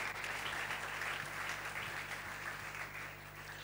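A church congregation at a convention service breaks into applause, a dense, even wash of clapping that holds steady throughout and eases slightly toward the end, with no speech over it.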